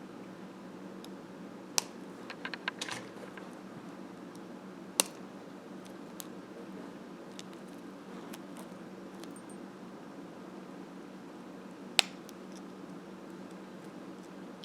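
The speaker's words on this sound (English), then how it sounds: "Cut your excess wire." Cutters snip excess wire while making a wire-wrapped bracelet: a few sharp, isolated clicks spread over a quiet, hissy background, loudest near the end, with small handling ticks between.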